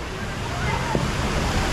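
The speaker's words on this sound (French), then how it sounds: "la superbe rivière sauvage de l'enfer les mecs" Rushing water from the wild river ride at Universal's Volcano Bay water park makes a broad, steady roar close by, with a voice faintly audible beneath it.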